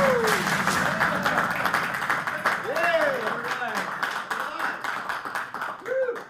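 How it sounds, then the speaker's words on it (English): An audience applauds steadily and loudly, the clapping tapering slightly as voices rise over it. "The applause that you just heard"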